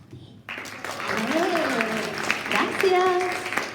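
Children's show audience applauding after a storyteller's prompt, a broad steady wash of clapping that swells and holds for several seconds with voices and cheering mixed in.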